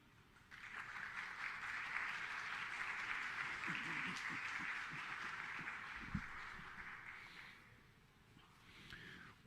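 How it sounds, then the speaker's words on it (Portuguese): An audience at a panel on sustainable infrastructure in the Amazon claps to welcome a moderator to the stage, sustained fairly faint applause that swells and then tapers, with a brief murmur near the end. "uma salva de palmas para recebê-lo"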